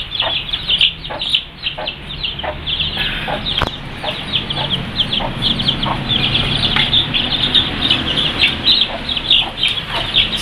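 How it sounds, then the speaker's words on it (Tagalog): A pet chick being moved into a new cage peeps and clucks steadily in quick, bright repeated calls close by, with fowl-like chatter continuing throughout. "kukunin namin yung sisiw dito, no, yung alaga natin. Kaya lilipat natin sa bagong kulungan niya"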